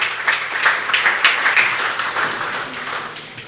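At a SANEF fundraiser gala dinner, the audience gives a warm round of applause, a crisp burst of many hands clapping that gradually fades over a few seconds.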